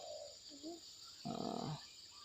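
A caged cuckoo bird in a backyard gives soft, fairly distant cooing calls, a short low phrase followed by a louder burst, over a steady background hiss with no talking.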